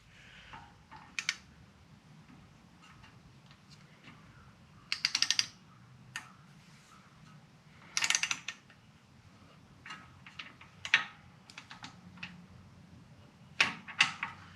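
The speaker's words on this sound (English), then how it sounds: "With your torque wrench set at 106 inch-pounds" A torque wrench tightening the bolts of an ATI damper on an LS engine, with intermittent bursts of rapid ratchet clicks close up and quiet pauses between them.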